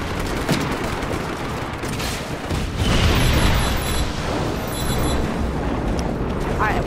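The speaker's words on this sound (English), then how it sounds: "it's great to see a bunch of explosions" Video game explosions and gunfire during a base assault in Just Cause 3: continuous crackling bursts and booms, dense and loud throughout, with a louder blast swell midway and voices mixed in.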